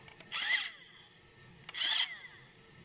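A small electric motor in a radio-controlled toy car, just repaired by soldering, whirs in two short high-pitched bursts, spinning up and winding down close by with a gap between runs.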